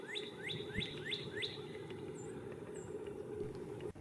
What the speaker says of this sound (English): This is the sound of the very common northern cardinal.